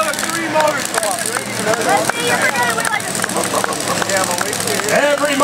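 Bucket drag trucks with three engines at a 1923-style truck pull, their motors rumbling and revving under a loud announcer's voice, with crowd noise mixed in.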